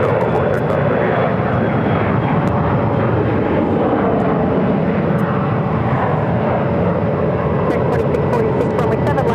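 A jet airliner roars steadily and loudly down Phoenix Sky Harbor runway 7 left on takeoff, a dense broadband engine rush holding at full strength throughout with no break.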